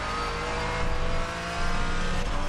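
GT4 race car engine in iRacing sim racing, a steady droning drone with slight rises in revs, moderately quiet and alone without talk.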